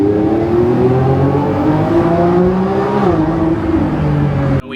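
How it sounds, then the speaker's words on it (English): Lamborghini Revuelto accelerating flat out in Performance mode, its engine note climbing loud and close in a sustained rising roar with a brief dip mid-pull, then cutting off sharply at the end. "We just accelerated in Performance mode, and there is a significant increase in acceleration."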